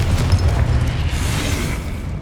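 A Confringo blasting spell explodes in Hogwarts Legacy, a deep rumbling boom that rolls on steadily for a couple of seconds with no voices over it.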